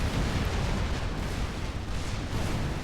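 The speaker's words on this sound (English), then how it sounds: "Unit detonate being used at a very high level" Units detonating in the real-time strategy game Supreme Commander 2 make a dense, continuous roar of overlapping blasts and rumbling booms. It is loud and sustained throughout, with no voices.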